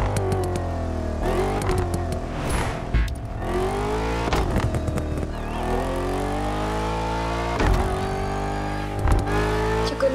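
Ford car in The Crew Motorfest driving game, modified with a Hawaiian touch, on a scenic Hawaii tour: a steady engine drone with rising and falling revs as it shifts gears, loud and continuous throughout.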